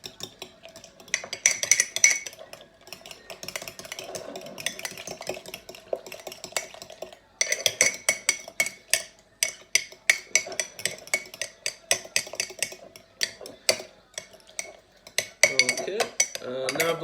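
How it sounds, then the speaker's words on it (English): A fork whisking eggs in a bowl in a home kitchen, rapid rhythmic metallic clinks and scrapes against the bowl in bursts, close and clear, with a brief pause midway. "I'm going to take a fork and give this a little whisk"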